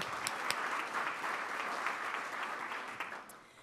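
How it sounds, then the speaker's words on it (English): A round of applause from attendees at a Rotary club meeting, steady, fairly soft clapping filling the room for a few seconds before fading out. "Let's give another round of applause."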